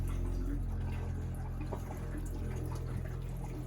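Pink RV antifreeze flushing through the drain of a 2021 Keystone Cougar 5th wheel, a faint steady trickle and pour with a low hum underneath, no talking.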